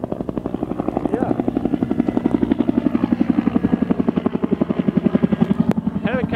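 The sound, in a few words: helicopter flying overhead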